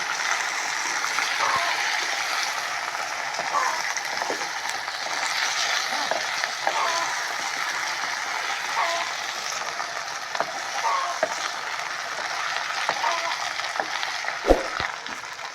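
Eggplant pieces sizzle in a pan while a utensil stirs them, producing a continuous hiss broken by scattered scraping clicks and occasional knocks.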